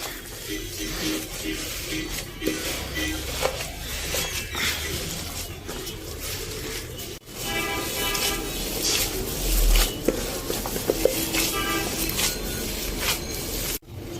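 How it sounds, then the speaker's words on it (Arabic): Minced meat kofta mixture with grated onion and spices being kneaded by hand, a steady wet squelching and patting that runs throughout with brief pauses, close and fairly loud. "هعجن المكونات دي كلها مع بعض لفتره ما تقلش عن 5 دقايق علشان اللحمه تشرب من البصل ومن التوابل بتاعتها"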